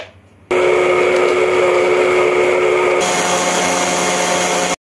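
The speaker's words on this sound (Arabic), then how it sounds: "هضربه بقى في الخلاط وارجع لكم تاني." A kitchen blender starts abruptly and runs at a loud, steady whir, shifts to a slightly different tone partway through, then cuts off at the end.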